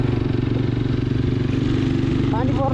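A custom restored, modified motorcycle with a handmade silencer idles close by, its engine thumping in a steady rapid rhythm while people talk over it.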